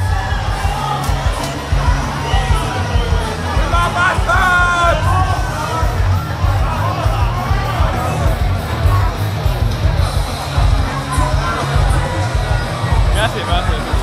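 Concert audience on a Radio Rock cruise shouting and cheering loudly, a dense continuous crowd roar with yells and whoops throughout.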